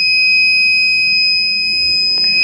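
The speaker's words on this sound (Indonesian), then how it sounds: "buzzer akan hidup hanya beberapa detik yang menandakan bahwasanya pintu telah terbuka" A buzzer on an IoT smart door with iris-recognition unlocking gives a steady, piercing electronic tone. The high, even beep holds for about two and a half seconds over a low background hum.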